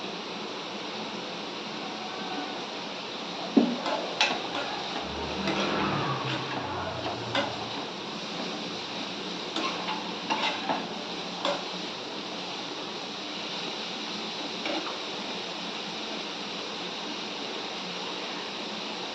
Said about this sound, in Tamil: இதுக்குள்ளே இங்கே எறாக்கல் இருக்கு, வதங்குது இல்லையா, இது கொஞ்சம் வதங்கணும்